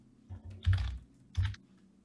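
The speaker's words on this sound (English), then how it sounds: "Typing it." Keystrokes on a computer keyboard come in two short, close bursts of rapid clicking, with quiet pauses before and between them.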